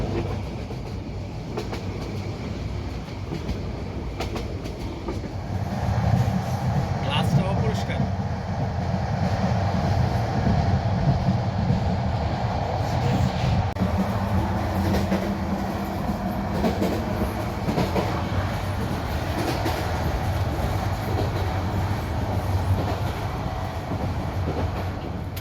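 A passenger train travelling from Dhaka to Cox's Bazar rumbles loudly from inside the carriage. The rumble is continuous, with rhythmic wheel clatter that grows heavier midway.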